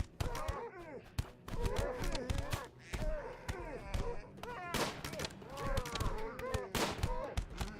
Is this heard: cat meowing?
no